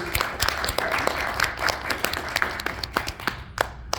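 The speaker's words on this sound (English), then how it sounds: "Give a round of applause for our wonderful actors" A small panel audience at The Hills Have Eyes event applauds the actors, individual claps standing out crisply in a moderate, uneven round.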